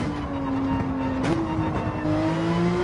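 A Gr.3 race car in Gran Turismo 7 braking into a corner and turning in, engine note dropping then climbing again as it downshifts and rolls back on throttle, heard close and continuous with no voices.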